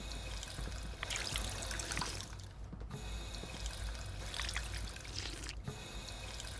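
Water pouring and trickling in the game Fallout 4 while a character drinks, a faint continuous splashing stream in two bursts with a short gap between.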